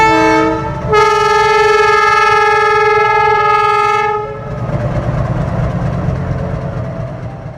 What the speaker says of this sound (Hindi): छोटे से YDM लोगों की छुक छुक लोगों के दिलों में बसी सी है।